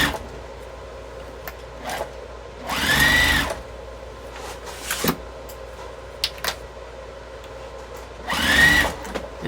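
A sewing machine stitches a seam on a jelly roll tote bag, two loud sustained runs of rapid mechanical whirring separated by quieter handling clicks and pauses.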